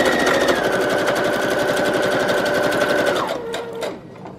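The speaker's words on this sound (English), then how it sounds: "I'll start out by sewing a line with just these items on here, just to hold everything down" A sewing machine stitching through paper, running fast and steady with a rapid rhythmic chatter and a droning motor whine that slows and winds down at the end.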